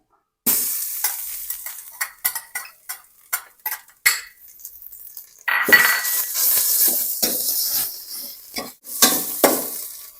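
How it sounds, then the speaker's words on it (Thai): Thai curry paste frying in oil in a pan for a prawn and catfish kaeng khae curry: a run of sharp utensil scrapes and clinks over steady sizzling that swells loud in the second half, with no talk. "ใส่น้ำมันลงไปครับ ใส่พริกแกงครับ"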